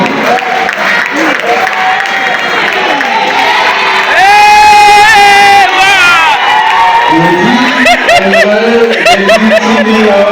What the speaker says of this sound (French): Un tonnerre d'applaudissements pour l'artiste qui va s'approcher et récupérer son prix.